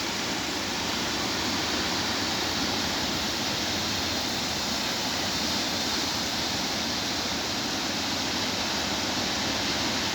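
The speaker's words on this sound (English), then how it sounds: "All this water goes to the ocean." Heavy rainwater rushes toward the ocean at Mhlanga Rocks, a loud, unbroken roar of flowing water close by with no voices.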